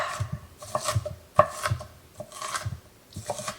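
Quick, close knife chops thud against a cutting board as onions are roughly chopped, in an irregular rhythm, with brief gaps between strokes.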